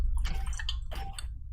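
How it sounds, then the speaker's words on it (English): Close, wet gulps and slurps of someone drinking water, two short bursts separated by a brief pause, with a low background hum. "Can you hear me drinking?"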